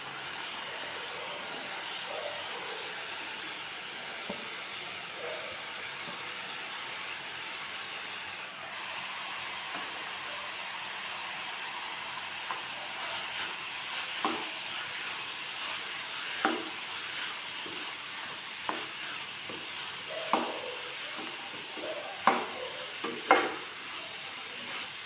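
Cauliflower frying in a pan for a gravy, a faint continuous sizzle and hiss with occasional soft scrapes and taps of stirring growing more frequent toward the end.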